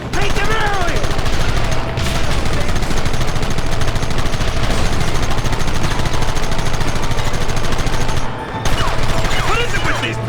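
Dense, continuous gunfire from the Red Dead Redemption game, rapid shots and bursts layered loudly throughout, with shouted voices mixed in over the shooting.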